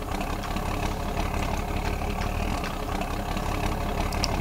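A tractor engine idling in a farming video game, a steady low mechanical rumble that holds constant and close with no talking over it.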